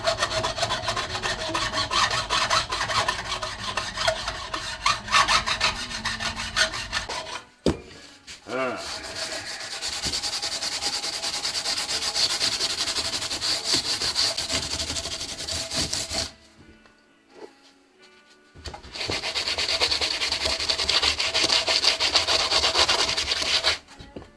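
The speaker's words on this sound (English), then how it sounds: "you can hear and feel when you stop filing frets and get in the wood." Long stretches of harsh, rhythmic rasping of a file on banjo frets, cutting into the wood, stopping twice for short pauses before resuming.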